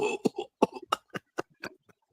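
A quick series of dry coughs and throat-clearing bursts, close and fairly loud, tapering off into a faint final cough.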